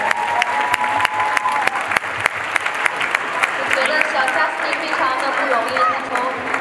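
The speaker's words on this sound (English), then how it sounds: "Can we please give her an applause?" Audience applause after a solo dance performance at a Chinese New Year gala, loud and close, with sharp individual claps standing out over a dense, sustained patter of the crowd, and voices murmuring underneath.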